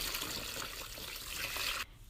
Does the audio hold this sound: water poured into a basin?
yes